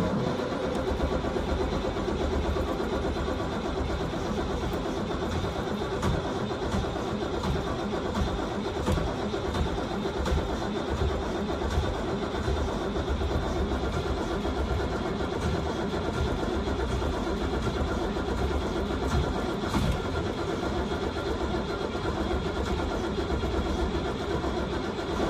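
A school bus engine cranks and churns continuously for a long stretch, a low rumbling grind that never quite settles, heard up close without voices.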